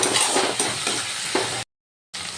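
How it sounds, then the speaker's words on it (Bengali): Fish roe stir-fried with ginger paste sizzles loudly up close, with rhythmic scraping stirs, then cuts to brief silence before the sizzle resumes. "আদা বাটাটা দিয়ে একটু ভালো করে কষিয়ে নেব।"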